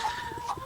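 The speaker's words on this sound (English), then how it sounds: "And the dog is chasing the chickens." Brief clucking of farm chickens being chased by a dog, a few short fowl calls close by with no talking.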